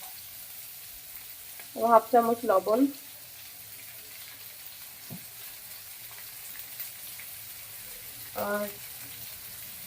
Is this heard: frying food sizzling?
yes